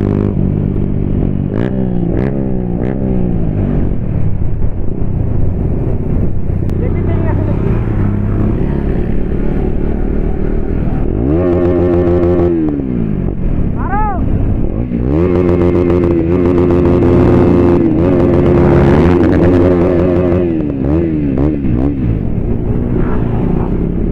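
Several motorcycles ride together on an open road, one fitted with an aftermarket exhaust, their engines droning and revving steadily and loudly throughout with shifting pitch as bikes pass, while a rider talks excitedly over the noise.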